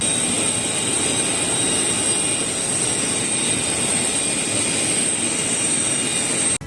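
Engines of a Tu-160 strategic bomber, a loud, steady jet roar with a high whine running continuously before cutting off abruptly at the end.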